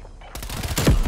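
Rapid automatic MP5 submachine gun fire in Call of Duty: Black Ops Cold War, a dense burst of shots starting abruptly after a brief quiet lead-in and staying loud to the end.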